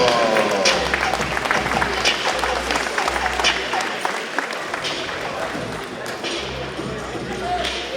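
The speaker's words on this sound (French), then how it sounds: "Les applaudissements, mesdames," Crowd applause at a regional elite championship, with a dense, steady roar of clapping lasting throughout at close range, a low hum running beneath it and an announcer's voice heard over the noise.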